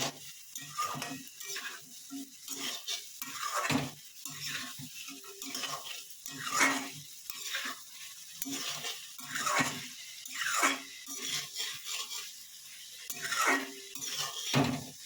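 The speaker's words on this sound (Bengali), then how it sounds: "মাছটা দিয়ে একটু নাড়িয়ে নেব" Tangra fish curry being stirred in a pan, with rhythmic scraping and clinking of a spoon against the pan over a soft sizzle, close and continuous, with no voices.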